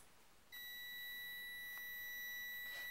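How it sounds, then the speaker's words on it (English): A kitchen timer starts beeping after a short quiet moment, a steady, piercing electronic tone that holds on with faint clicks behind it. "My timer is beeping."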